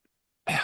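A single short, harsh cough bursts out close by after a moment of near silence.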